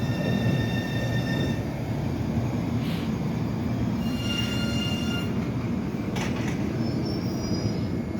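Orange Line subway train at Roxbury Crossing, a close, steady rumble of cars and wheels with high squealing wheel tones and bright screeches near the middle and end.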